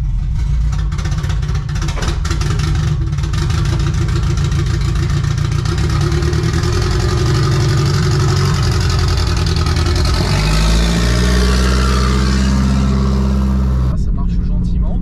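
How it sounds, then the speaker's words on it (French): A 1986 Renault Espace engine running with a free-flowing open exhaust: loud, close, steady rumbling idle that rises into a revving sweep and drops back near the end, with someone talking over it. "ça fait un peu plus de bruit parce qu'il y a un échappement libre"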